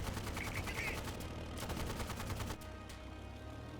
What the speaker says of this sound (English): 50 cal machine guns.